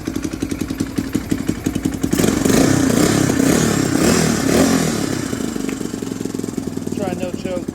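A Yamaha Raptor clone ATV engine sputters and clatters at idle, then revs up loudly for a few seconds before settling back to a choppy, uneven idle, recorded close with someone talking over it.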